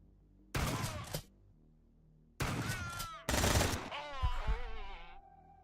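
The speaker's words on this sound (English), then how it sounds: "That is a flamethrower, not a normal turret." A flamethrower turret in the video game Quasimorph fires in three separate loud bursts, roaring, crackling whooshes with brief pauses between them, the last burst trailing off into a fading tone.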